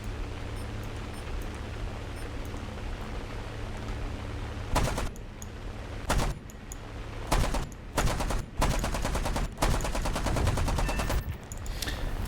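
Rapid bursts of heavy cannon fire in a video game crack out in clusters over a steady engine rumble, loud and close, with short pauses between volleys.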